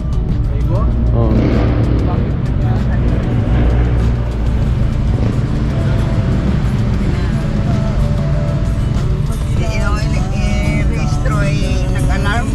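A loud Honda Civic with an aftermarket exhaust muffler drones and rumbles nearby throughout, its engine note steady and heavy, with people talking over it.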